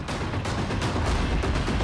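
Firecrackers burst on a street in Maharashtra during a procession, a rapid string of sharp cracking pops in quick irregular succession, loud and dense, with repeated sharper bangs standing out over the crackle.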